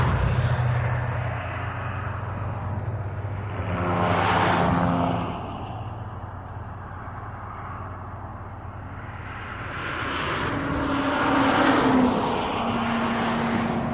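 Highway traffic roars continuously in the distance, with louder swells as vehicles pass, during an eclipse in Branson, Missouri, and no voices are heard.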